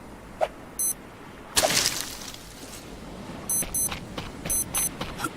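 Electronic alarm beeps in short, repeated bursts, mixed with clattering game noises and a brief crash, in the video game Stranded Deep.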